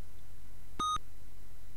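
Two quick electronic bleeps from a cash machine accepting a cashcard in the adventure game Zak McKracken, bright and steady in tone, brief and isolated over a quiet hiss.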